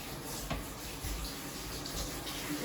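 Tap water runs steadily into a bathtub while a dog is washed, a continuous broadband rush with a small splash or knock near the start, no talking.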